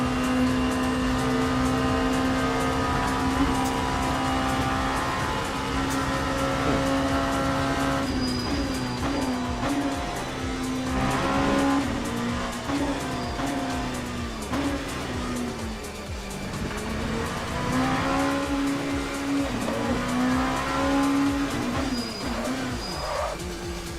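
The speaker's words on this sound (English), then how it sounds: "It's called warming up the tires. How you warm it up. Friction equals heat. This is called proper scrub down." A race car in the Le Mans Ultimate racing game weaves to scrub its tires warm, a loud sustained engine drone rising and falling in pitch with intermittent tire squeal throughout.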